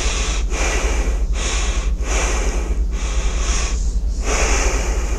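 Repeated breaths drawn in and out during a guided breathing exercise in a lung physiology lesson, a steady rhythmic series of airy inhales with brief pauses between, close and fairly loud, with no talking.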